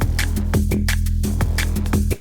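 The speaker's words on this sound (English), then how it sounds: "The distortion comes in," A heavily distorted sub-bass synth riff from the Vital synthesizer pulses in short rhythmic bursts over a dense, gritty low drone, loud and saturated throughout.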